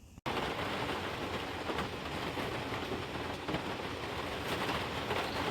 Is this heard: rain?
yes